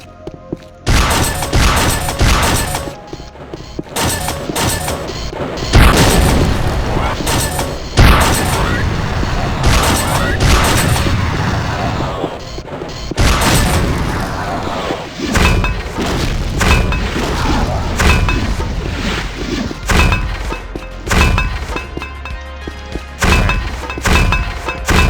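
Heavy weapon fire and minefield blasts in a Doom WAD, loud booming explosions and thuds in rapid, dense succession, overlapping one another with brief gaps, under occasional talk.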